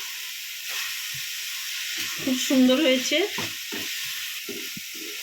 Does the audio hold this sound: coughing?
no